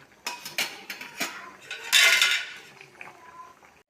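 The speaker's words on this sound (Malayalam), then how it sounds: "ഇനി ഉപ്പിട്ട് കൊടുക്കണം ഇളക്കി കൊടുക്കാം" A spoon clinks and scrapes against a pot while boiled cassava is stirred with salt. The sharp knocks come irregularly, with a louder scraping stretch in the middle before fading out.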